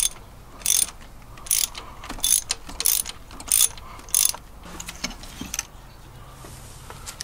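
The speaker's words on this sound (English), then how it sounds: "Now we're gonna remove the spark plugs." A ratchet wrench clicks in short bursts while spark plugs are loosened on a 100 Series Land Cruiser engine, with about seven quick ratcheting runs spaced through a quiet garage.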